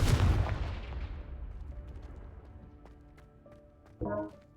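A Confringo blasting spell fires in the Hogwarts Legacy video game, a loud booming burst that trails off into a rumbling decay, followed by a sharper crackling impact near the end.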